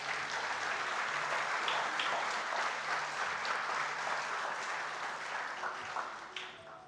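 A church congregation applauding, a dense, even wash of many hands clapping from a medium distance that carries on steadily and starts to thin out near the end.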